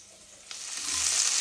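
Sliced onions hit hot oil in a pan for chicken biryani, and a steady hiss swells quickly into a loud, broad sizzle over a short moment.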